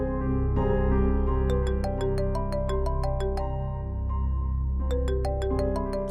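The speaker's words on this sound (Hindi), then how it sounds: "फोन आ रहा है अम्मी" A melodic phone ringtone plays in repeating bright chime-like phrases over a sustained synth backing, steady and fairly loud.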